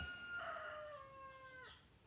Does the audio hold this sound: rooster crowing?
yes